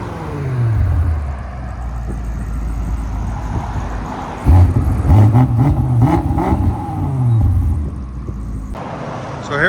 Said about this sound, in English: So here we go, 2020 BMW M5 with a Resonator delete.